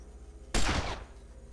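A single sharp gunshot burst in a video game pod battle, loud and close, with a short decaying tail before the quiet background returns.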